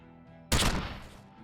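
A single loud gunshot from the Disco Elysium video game, one sharp blast that decays into a short noisy tail, alone over a quiet background.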